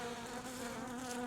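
Honeybees swarm around an open beehive with a steady, dense buzz, many wings droning together close by, unbroken and fairly quiet.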